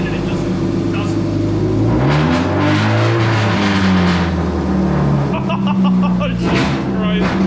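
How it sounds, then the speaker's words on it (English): Toyota Celica engine with a faulty oxygen sensor, idling loud and close, its pitch wavering and rising briefly as it tries to rev but failing to climb, with someone talking over it. "See, I'm trying to rev it and it just doesn't."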